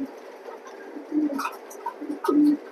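Racing pigeons coo softly nearby, a few short throaty cooing calls over about three seconds against a quiet background.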